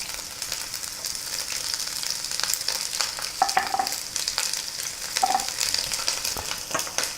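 Onions sizzling in a pot for onion soup, a close, steady crackle with scattered pops and a couple of brief spoon clinks.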